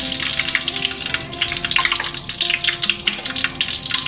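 Whole spices — star anise, cloves and cardamom — frying in hot oil in a pan for chicken rendang, a close, steady crackling sizzle with small popping bursts, no talking.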